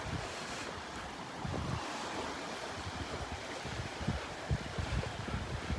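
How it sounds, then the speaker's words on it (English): Strong wind roars steadily across a microphone on an open beach walk at Delnor-Wiggins, with surf washing beneath it in a constant, loud rush and no talking. "Walking into the wind now."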